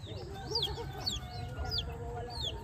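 A chick only a couple of weeks old chirps in rural Samar in the Philippines, giving a run of thin, high, falling peeps at a steady pace. The chirps sit fairly faint over a constant low rumble of background noise.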